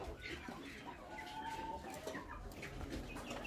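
Young chicks and free-ranging chickens cluck and cheep softly in a farmyard, with scattered calls over a steady outdoor background and a faint voice at moments.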